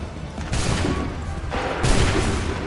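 A volley of soldiers' musket fire in Assassin's Creed III, loud crackling blasts at about half a second and again near two seconds, each trailing into a smoky roar of battle noise.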